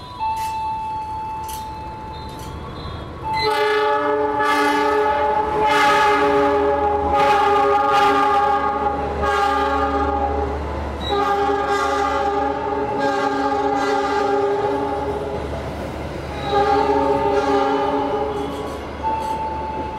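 A Menoreh passenger train rumbles steadily into an Indonesian station while a loud horn sounds in long blasts, with metallic clatter from the wheels as it rolls in; no talking.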